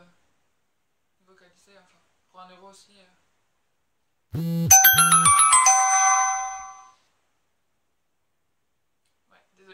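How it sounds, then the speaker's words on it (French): A mobile phone's message notification plays as a bright, bell-like chiming melody lasting about two seconds, loud and close, following brief quiet speech. "désolé, c'est mon téléphone"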